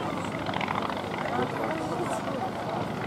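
A Po-2 biplane flying at an air show in Novosibirsk, its propeller engine a steady, moderately loud drone that holds level over the whole stretch, with a busy outdoor mix of crowd noise underneath.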